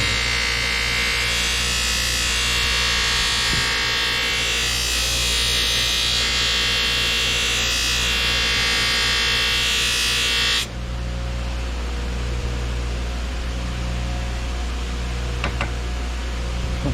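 A clean buffing wheel running on a bench buffer, a steady loud high whine and rush for about ten seconds, then cutting to a lower, quieter hum that spins on.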